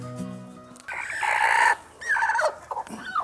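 A brooding hen sitting on eggs gives drawn-out, wavering clucks and squawks, loud and close, in two or three bursts after a brief quieter start.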